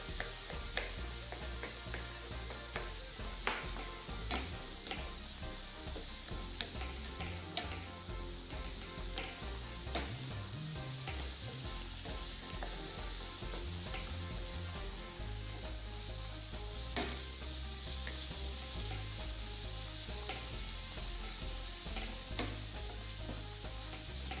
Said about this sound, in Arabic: نسوطيهم غير شويه، من بعد نزيدو عليهم صدر ديال الثوم، نحركو مزيان حتى يتقلاو